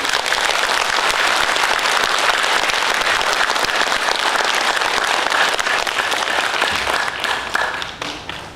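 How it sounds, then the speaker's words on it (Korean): An audience claps loudly and steadily at a citizens' movement meeting in Jeollabuk-do, a dense, unbroken wash of applause that fades out in the final seconds. "힘찬 박수 보내주십니다."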